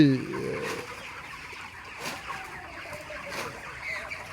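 Chickens in a poultry house cluck as they drink water, a soft, steady chatter of several birds close by with a brief louder call at the start.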